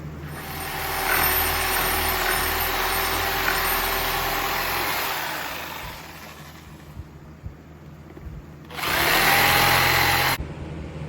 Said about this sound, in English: First thing I picked up was a jigsaw.